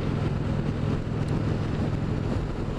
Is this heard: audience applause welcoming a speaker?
no